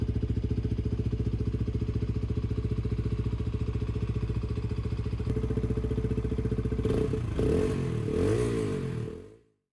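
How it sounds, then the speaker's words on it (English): A Peugeot PM-01 125cc motorcycle idles with a steady, deep exhaust burble from its tuned engine and exhaust, close and loud, then revs up briefly in a few quick blips before the sound cuts off. "the engine and exhaust is nicely tuned, so it does not sound like a 125"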